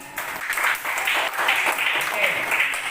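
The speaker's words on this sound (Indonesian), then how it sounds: "Oke, semua tepuk tangan dulu." Classroom applause from students during a lesson at a teacher-training session at Universitas Ahmad Dahlan, a steady clatter of many hands lasting about three seconds, fairly close, with a voice or two mixed in.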